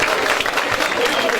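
An audience applauds at the close of a 2023 theatre show, a dense, steady wash of clapping held at even loudness throughout, with voices mixed in beneath it.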